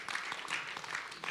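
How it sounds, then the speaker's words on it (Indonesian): Applause from a church congregation welcoming a newly baptized young man, a steady wash of many hands clapping that swells and fades, with no talk over it. "Tepuk tangan yang meriah."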